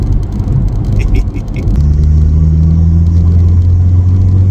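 A Volkswagen Passat PD150 diesel engine revs up loudly and close, rising into a steady heavy drone as the turbo spools, with a voice briefly audible early on.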